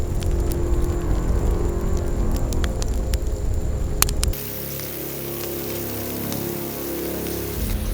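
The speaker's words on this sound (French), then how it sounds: "Le feu crépite, les poivrons sont en train de dorer dans la gamelle" A campfire crackles and peppers sizzle as they brown in a camping pan, giving a dense, steady hiss broken by sharp pops and snaps. The sound changes to a smoother, quieter hiss partway through.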